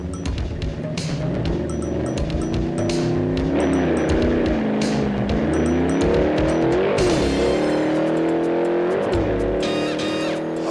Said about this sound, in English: Here, TV star Dick Smothers makes a surprise try at super stock drag racing.